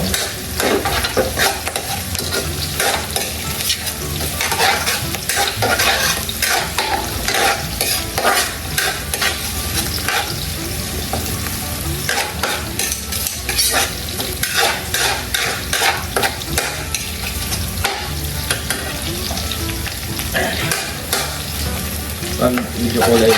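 Garlic stir-fried in a pan hisses with a steady, dense sizzle, while repeated scrapes of stirring run through it close up and loud, with no voices.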